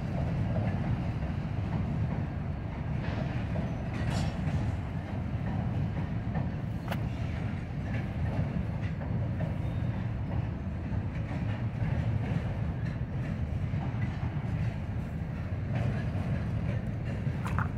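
A freight train, with a KCS locomotive among its power, passes close on a railroad track: a steady loud roar of rolling cars with clickety-clack and metallic squeals throughout.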